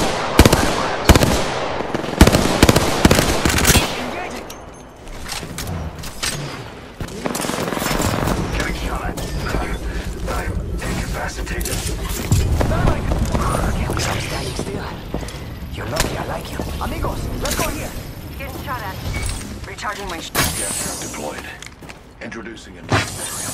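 Repeated gunfire bursts and fusillades in the battle royale shooter Apex Legends, loud and dense at first, then continuing in rapid volleys under game voice lines and talk.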